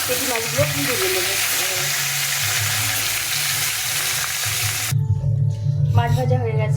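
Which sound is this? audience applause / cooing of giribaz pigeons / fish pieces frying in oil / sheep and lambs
fish pieces frying in oil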